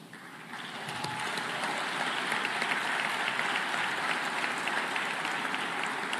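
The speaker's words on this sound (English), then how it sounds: "Please, round of applause." Sustained applause from a crowd at the Africa Food Systems Forum 2023 as finalists stand, a dense wash of clapping that swells in the first second and holds steady throughout.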